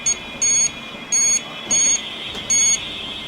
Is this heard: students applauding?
no